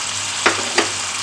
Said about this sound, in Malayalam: ഇനി നമുക്കിതിലേക്ക് ചിക്കൻ കീമ ഇട്ട് കൊടുക്കാം.